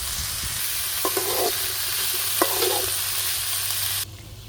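Bitter gourd and onions are stirred in hot oil on a new stove. Two distinct scraping strokes cut through a steady sizzle before the sound drops off abruptly near the end.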